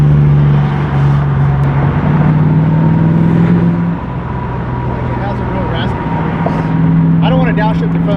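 A Volvo 740 fitted with an LS6 V8 and Flowmaster mufflers gives off a raspy exhaust drone that holds steady, with the engine note shifting in pitch a couple of times as if downshifting.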